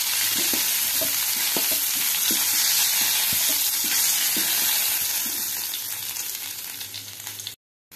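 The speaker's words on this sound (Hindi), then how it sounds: "फूलकोबी भल भाव भाजी हो" Cauliflower florets fry in a pan of oil with a steady, dense sizzle and occasional sharp crackles and stirring scrapes, loud and close throughout, cutting off abruptly near the end.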